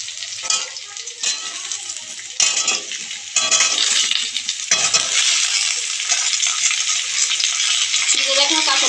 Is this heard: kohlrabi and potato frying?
yes